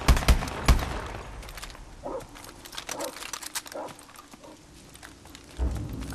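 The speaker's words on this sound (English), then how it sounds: "I hear dogs barking." Dogs bark in the Call of Duty: Advanced Warfare video game, with a few loud bursts at the start and end and softer barks in between, mixed with gunfire-like crackle and game ambience.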